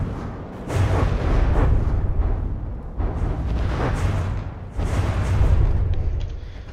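Missiles exploding in the naval combat game From the Depths, a run of heavy booming blasts in several rolling bursts, loud and close, with no talk over them.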